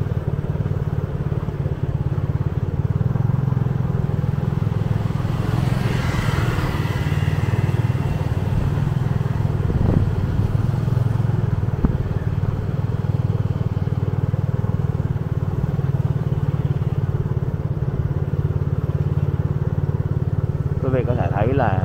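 Motorcycles ride along a spacious residential street in a Biên Hòa neighborhood, a continuous loud engine drone with passing revs, while someone talks over it throughout.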